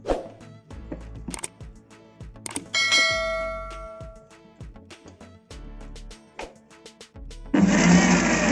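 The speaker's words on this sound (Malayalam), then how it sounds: "മിക്സിയിൽ അടിക്കുമ്പോൾ നിങ്ങൾ ജസ്റ്റ് ഒന്ന് ക്രഞ്ച് ചെയ്യാൻ മാത്രം ഒറ്റ കറക്ക് മാത്രം കറക്കുക" A mixer grinder blending mayonnaise ingredients with a few garlic cloves runs in a short burst near the end, a loud close whirring roar that follows several clinking and knocking kitchen sounds, with no talking.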